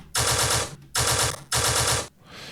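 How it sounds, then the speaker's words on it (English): Gun sound sample from Splice: three loud, close bursts of rapid automatic fire, each roughly half a second long, separated by brief gaps and followed by a fading tail. "we'll just grab a fucking gun from Splice"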